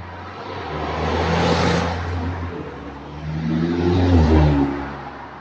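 A modern sports car drives past on a road, its engine note swelling as it approaches, fading, then another loud revving pass rises close by before trailing off.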